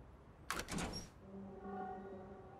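A door opens in the video game Lost Judgment, giving a short, loud clunk and rattle followed by a steady ringing hum that lingers at moderate level.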